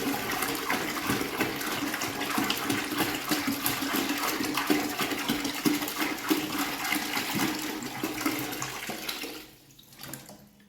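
Water pours steadily from a tap into a bucket for car wash shampoo, a loud continuous gushing splash that runs for about nine seconds before cutting off abruptly.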